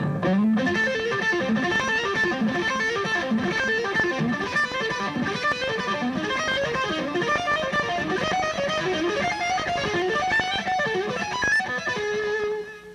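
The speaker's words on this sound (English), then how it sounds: "what I'm doing there is just kind of a hammer pull pattern" Distorted electric lead guitar plays a fast hammer-on and pull-off pattern, dense flurries of notes running steadily for about thirteen seconds at constant loudness, no talking over it.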